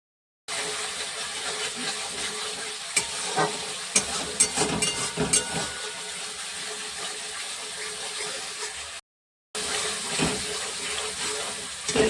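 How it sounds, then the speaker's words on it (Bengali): Hot water poured into a simmering cauliflower dalna cooked with ginger and oil, giving a steady hissing, sizzling gush that runs for about nine seconds, breaks off briefly, then resumes. "গরম জলটা দিয়ে দিলাম"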